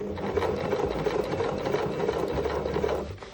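A sewing machine runs continuously, understitching the facing on a garment close to a trimmed seam allowance. The hum and rattle are steady and close, then ease off at the end.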